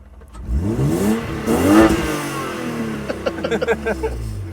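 A BMW E36 four-cylinder car engine revs up sharply, its pitch climbing then falling away, followed by a lumpy idle with a few quick throttle blips.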